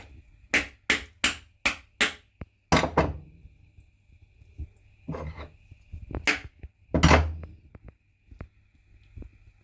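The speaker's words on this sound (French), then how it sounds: "Je vais desserrer presque à fond un des écrous pour pouvoir taper sur l'écrou" A hammer taps on a nut of a ski wheel, a run of five sharp metallic knocks in steady rhythm, then a few louder scattered strikes with quiet gaps in a workshop.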